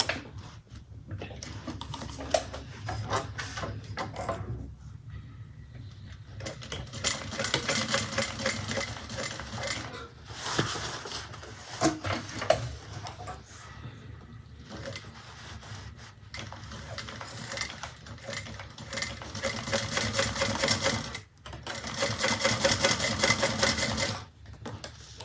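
Sewing machine stitching a bag along a marked line at a 3.5 stitch length, running in steady bursts of rapid mechanical whirring with short pauses between runs, close and moderately loud with no talk.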